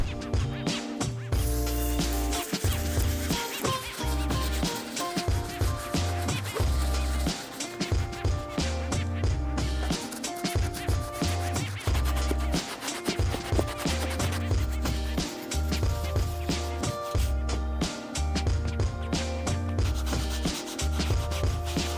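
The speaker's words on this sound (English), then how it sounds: "the first brush we're gonna be using is a soft bristle brush to break down the grime and dirt in the inside and outside" Soft bristle brush scrubbing the inside and outside of an Air Jordan 3 sneaker, a steady, close scratchy rubbing in rapid back-and-forth strokes that continues throughout.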